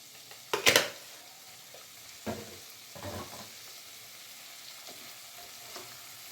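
Paneer pieces sizzling as they drop into hot oil in a pan, with a sharp burst of frying early on, then softer scattered crackles and stirring clinks fading to a quiet simmer.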